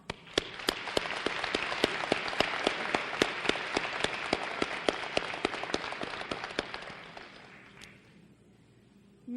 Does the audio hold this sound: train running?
no